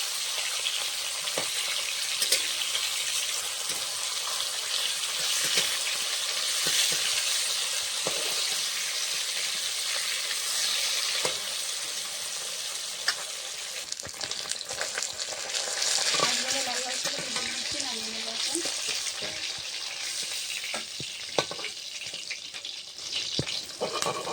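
Rohu fish pieces fry in hot oil in a pan, a steady close sizzle running throughout with occasional clinks and stirring scrapes; no one talks.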